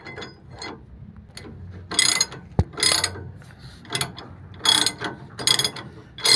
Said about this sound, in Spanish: Vamos a apretarlos con la llave.